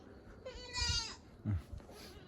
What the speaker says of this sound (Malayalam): നല്ല ആട്ടുംകുട്ടിയെ നോക്കിയേ ഗൈസ്